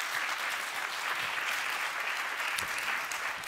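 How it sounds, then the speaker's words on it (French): Steady audience applause fills a conference hall during a public debate on urban development, dense and even from start to finish with no voices over it. "Oui, on peut l'applaudir."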